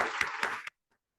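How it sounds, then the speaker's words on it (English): Audience applause at a presentation on stacking Inflation Reduction Act financial incentives, a short burst of many hands clapping with a couple of louder peaks, then stopping abruptly into near silence. "let's give them a round of applause and get them all excited"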